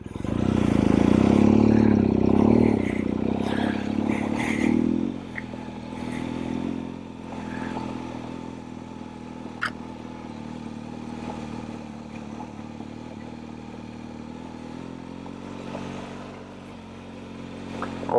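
A motorcycle picking up speed, with a loud engine roar and wind rush for the first few seconds, then a quieter, steadier engine drone with light rattles and a sharp knock midway.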